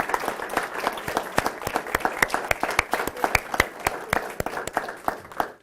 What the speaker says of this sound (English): I think we ought to give a round of applause to the parents.